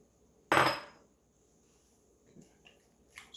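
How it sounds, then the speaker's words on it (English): A single loud clatter of a utensil against a bowl while mixing chickpea salad with carrots, peppers and dressing, followed by quiet and a few faint scraping knocks near the end. "Let's mix that up a little."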